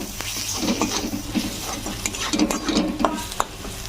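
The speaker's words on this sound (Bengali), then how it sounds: "এবারে হলুদ গুঁড়ো দিয়ে দিচ্ছি 1 চামচ, একটু লঙ্কা গুঁড়ো, ভালো করে একসঙ্গে সব মিশিয়ে নেব" Turmeric and chili powder get mixed through a mushroom mixture in a pan, a close run of quick scraping and tapping spoon strokes over a low sizzle.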